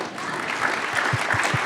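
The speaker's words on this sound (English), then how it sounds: "So please keep clapping for John McWhorter and Loury." Audience applauding John McWhorter and Glenn Loury at a live talk on conversation, a dense, steady wash of clapping that swells slightly toward the end, with a few louder, closer claps standing out near the finish.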